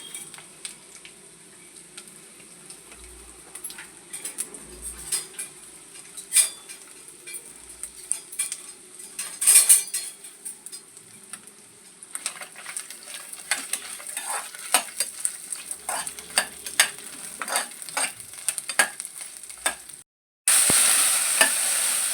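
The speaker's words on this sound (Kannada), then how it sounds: "ಬೆಳ್ಳುಳ್ಳಿ ಹಾಕ್ತಾಯಿದ್ದೀನಿ, ಕಾಯಿ ಹಾಕ್ತಾಯಿದ್ದೀನಿ, ಮೆಣಸಿನ್ಕಾಯಿ, ಮೆಣಸು ಹಾಕ್ಬಿಟ್ಟು ಎಲ್ಲ ಹುರ್ಕೊಳ್ಬೇಕದು" Garlic, coconut, green chillies and pepper fry in hot oil for a milk curry, giving a steady close sizzle with scraping stirs and clinks, and a louder burst of sizzling near the end.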